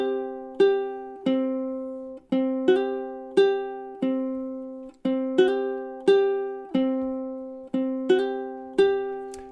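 Ukulele plucking the intro notes of a song with slides, a short four-note figure repeated several times in steady time, each note ringing and sliding into the next, close and unaccompanied.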